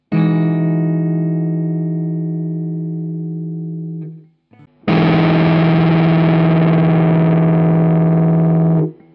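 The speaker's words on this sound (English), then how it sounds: "Their playing became more and more overdriven and distorted." Distorted electric guitar power chords ring out, one long sustained chord fading away, then a short muted scrape and a second loud, buzzing chord held steady before cutting off.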